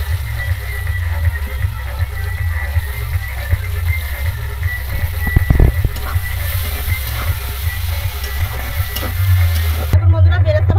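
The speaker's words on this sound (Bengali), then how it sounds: "আমি এখানে বেরেস্তা করে নেব, পেঁয়াজগুলো দিয়ে বেরেস্তা ভাজা করে নেবো আগে" Chopped onions frying in oil in a home kitchen for biryani garnish, a steady low sizzle with occasional stirring clatter and a brief louder scrape near the middle.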